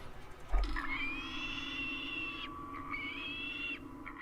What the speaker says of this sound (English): which is a vehicle horn that sounds like this.